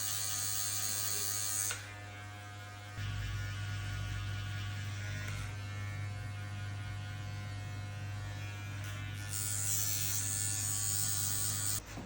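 Electric hair clippers buzz steadily while cutting a mohawk fade with a 1.5 guard, a close, continuous hum that shifts pitch and loudness slightly as the lever and strokes change, with no talk.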